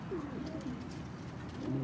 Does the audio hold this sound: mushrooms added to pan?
no